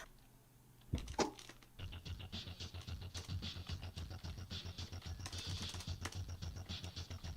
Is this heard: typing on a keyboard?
yes